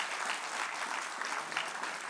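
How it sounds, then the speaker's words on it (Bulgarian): Applause at a young athlete of the year awards ceremony, a dense even patter of many hands clapping throughout. "Аплодисменти за Симеон Николов!"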